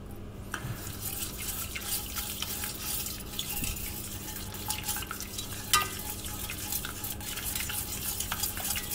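A whisk stirs sauce for broccoli and cauliflower in a pan, steady light scraping and liquid stirring close by, with faint sizzling and occasional clinks against the pan, no talking.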